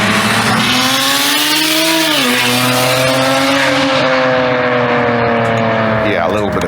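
BMW 135i with a single-turbo N54 engine, running loud and close, revving up and easing off in long sweeps with a strong tonal drone.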